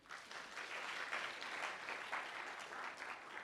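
An audience applauding for a bank at a university orientation: a steady wash of clapping from many hands, moderately distant, continuous for several seconds without a break.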